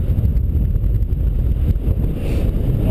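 Wind rushing past while paragliding tandem, facing into the wind and nearly stationary over the ground during descent, a steady loud low roar of buffeting against the microphone throughout.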